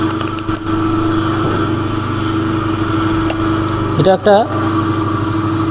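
A 1 HP single-phase capacitor start induction motor runs with a steady, loud hum and whine, a few clicks and brief bumps, while a person speaks briefly over it.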